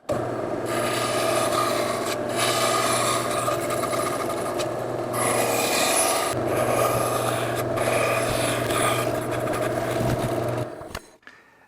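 Bandsaw cutting depth slots into wood pieces for a curved seat buck, a continuous close rasping blade hum with repeated cuts that shift in pitch and intensity before the machine winds down at the end.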